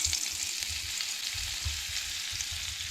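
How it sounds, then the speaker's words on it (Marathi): Butter fries in a spoonful of hot oil in a pan for pav bhaji, a loud, continuous hissing sizzle that holds steady throughout, with a low rumbling undertone beneath it. "सगळ्यात पयलीं हांगसर आमी तेल ॲड केला 1 चमचो, तेच्या उपरांत हांगसर बटर ॲड करूया."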